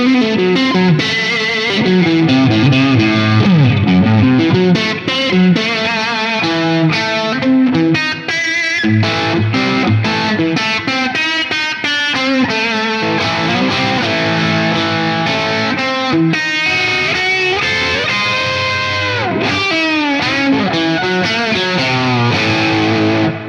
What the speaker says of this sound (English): Here's a more overdriven sound with that Ultraphonix again.